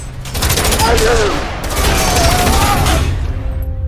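Rapid, loud gunfire bursts from a bank-robbery shootout in an action film, dense volleys filling most of the clip with a voice briefly audible underneath before it tails off.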